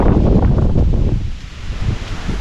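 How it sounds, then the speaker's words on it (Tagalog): Strong wind buffets the microphone with loud, steady broadband roar and gusts, briefly easing midway before surging again, with no talking. "Woo! Hangin!"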